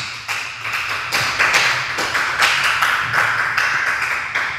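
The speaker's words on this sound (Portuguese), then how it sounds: "Diga a glória a Deus e aplauda o Senhor Jesus" Church congregation claps in a dense, rhythmic patter of many hands, steady and close, with no voices over it.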